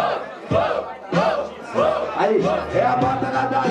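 At a freestyle rap battle event, the Batalha do Galo in Londrina, a crowd cheers and shouts loudly in repeated surging waves, with voices yelling together over the noise.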